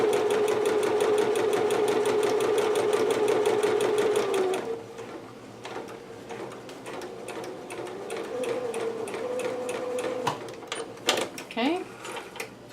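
A sewing machine stitches a basting line on a Pikachu dress, a rapid even mechanical chatter for about four seconds, then stops; a person talks over the quieter handling sounds that follow.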